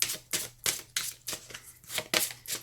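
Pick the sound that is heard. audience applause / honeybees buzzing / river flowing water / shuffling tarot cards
shuffling tarot cards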